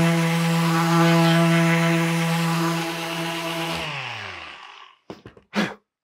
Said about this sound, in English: we're gonna sand this and see if I can take that little bevel out that I just made